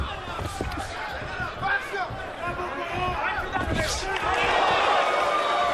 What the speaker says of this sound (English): Crowd oohing and eyeing for the Bradley right hand.